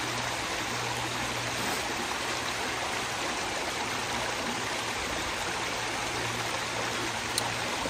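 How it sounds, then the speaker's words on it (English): Steady, full-bodied rush of a waterfall, continuous and close, with no breaks or voices over it. "I'm gonna stand right in front of the waterfall and just hang out for a little bit."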